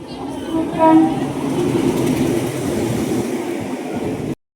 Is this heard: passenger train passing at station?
yes